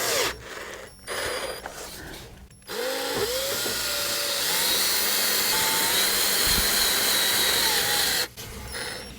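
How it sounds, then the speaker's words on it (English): A power drill whirs steadily for several seconds, slowly turning a part while cleaning a Harman P-series pellet stove, starting and stopping with short gaps, loud and close, with faint tonal squeals over the motor. "if I put my drill on it and spin it slowly"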